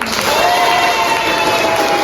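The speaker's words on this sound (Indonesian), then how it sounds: "tepuk tangan untuk kalian semuanya" A classroom of vocational school students applauding together, a dense, steady wash of clapping and some cheering, loud and close, continuous for the whole moment.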